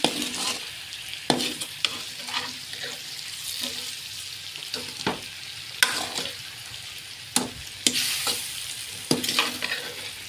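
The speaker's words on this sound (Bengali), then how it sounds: "অনেকক্ষণ ধরে জ্বালাতে হবে জ্বালাতে জ্বালাতে আস্তে আস্তে আচারটা হয়ে যাবে" Raw green mango pickle with extra chili, made sweet, sour and hot, is stirred and cooked in a pan over steady heat: a continuous sizzle broken by sharp scraping clicks of the spoon at irregular intervals, close and loud, with no talking.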